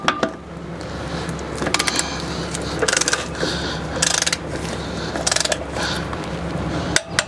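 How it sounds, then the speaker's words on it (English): Torque wrench on an RV wheel's lug nuts, set to 65 foot-pounds: a run of sharp ratcheting clicks in bursts over a low mechanical hum, close and fairly loud. "So that click means I've reached my 65 foot-pounds of pressure."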